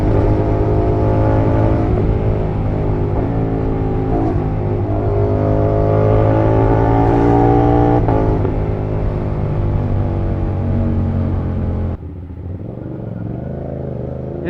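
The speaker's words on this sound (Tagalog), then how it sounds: "Parang ang tining ng tunog ng pipe ko ngayon." CFMOTO 450SR motorcycle with an upgraded sprocket, exhaust revving loud and close as it climbs through the gears, pitch rising and dropping with each shift before cutting to a quieter idle near the end, no talk.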